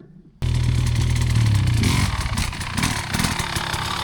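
An enduro motorcycle ridden off-road on light throttle, its engine in compression: after a brief quiet start, a loud, close, steady engine drone sets in with a low rumble and uneven mechanical clatter.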